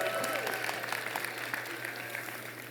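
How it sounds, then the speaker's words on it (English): Commencement audience applause, moderately distant and fairly quiet, a steady wash of clapping over a low hum with faint crowd murmur. "I hear clapping."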